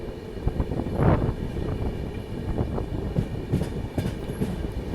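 The Ahmedabad-Gorakhpur Express passenger train runs along with a continuous rolling rumble, rattling carriages and irregular wheel clicks over the rail joints, with no voices.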